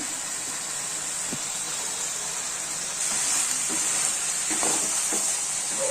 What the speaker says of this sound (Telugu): ఇదంతా వేసుకొని ఒకసారి బాగా కలుపుకోవాలి